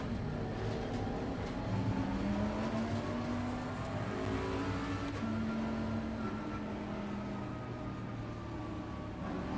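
A race car in Assetto Corsa Competizione drones steadily at full throttle, its engine tone climbing and shifting across gear changes, loud and continuous with layered harmonics throughout.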